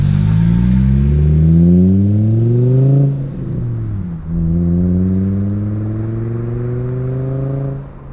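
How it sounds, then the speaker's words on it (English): A 2012 Mk6 Volkswagen Golf with the 2.5 engine and a Eurojet catback exhaust revs loudly and close up, climbing through two long rising pulls with a brief dip between them, deep and throaty throughout. "this car has a Eurojet Catback, and more important, now that thing sounds freaking dope"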